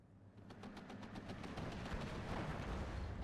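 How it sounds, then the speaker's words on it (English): An IAR plane bombs an M8 in Steel Division 2, heard as rapid rattling bursts of fire that swell into a dense, loud, rumbling barrage. "IAR coming in to try to bomb this M8."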